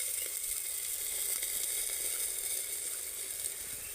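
Semolina chitoi pitha cooking in a covered pan with a little water added around the lid, giving a steady, even sizzle and hiss, close and continuous with no voices.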